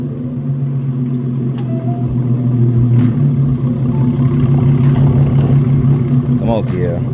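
A Hyundai Genesis Coupe engine drones steadily while driving, a constant low hum held throughout with a slight swell in the middle, with faint voices in the background.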